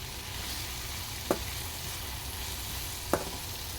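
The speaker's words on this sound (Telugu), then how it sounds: "ఇటు ఆనియన్ కూడా ఫ్రై అవుతుంటుంది, ప్లస్ దాంతోపాటు కాకరకాయ కూడా ఫ్రై అవుతుంది" Onion and bitter gourd fry together in a pan, giving a steady, soft sizzle with two brief clinks of a utensil, and no talk.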